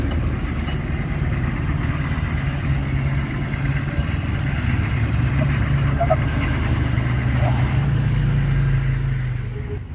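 A Humvee climbs the Poison Spider off-road trail with its torsion diffs locked, its engine droning and revving steadily and loud up close throughout, with a voice speaking over the motor.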